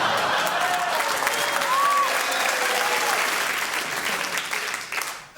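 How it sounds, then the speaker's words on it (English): Sustained studio audience applause at a panel comedy show, a dense, steady clatter of many hands that holds full for several seconds before tapering off, with faint voices lifting through it. "he got so many rounds of applause in that thing"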